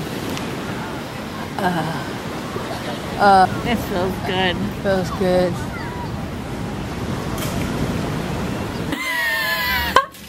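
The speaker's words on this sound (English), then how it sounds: "And there's the ocean." Ocean surf washing steadily on Waikiki beach in Hawaii, a continuous wash of waves and wind noise under close conversation, with a louder gusty rush near the end.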